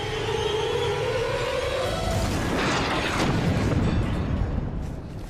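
A rocket-propelled grenade explodes on top of a bunker in the Vietnam War, a loud, rumbling blast with a sustained roar that swells midway and then fades, heard alone without speech.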